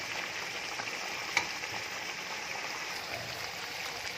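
Chicken and masala fry in ghee with a steady, even sizzle and faint stirring, moderately quiet and close, with one brief sharp tap partway through.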